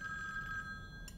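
A telephone rings in a domestic scene from a TV show, a steady electronic ringing tone filling the short moment with a faint noise burst near the end.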